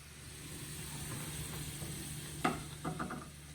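Piccata sauce bubbling in a pan on very low heat, a steady soft sizzle and hiss with a few brief scraping stirs near the end, close and fairly quiet.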